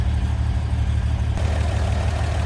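The 3.7-liter inline six-cylinder engine of a 1949 GMC 5-window pickup idles steadily, a low, smooth, even rumble heard close up with no voices.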